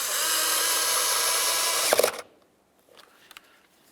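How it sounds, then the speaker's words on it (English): Power driver with a Phillips bit runs steadily for about two seconds, driving a mirror mounting bolt on a 1999-2003 Toyota Solara, then stops abruptly, leaving faint clicks and handling sounds close by. "Let's use our Phillips head to put in this mounting bolt right here."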